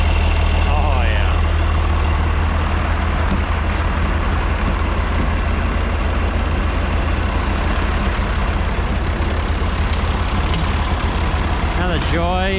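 Diesel engine of a tractor idling steadily after a cold start before dry corn chopping, a loud continuous low rumble with faint whistling tones throughout, up close and without pause.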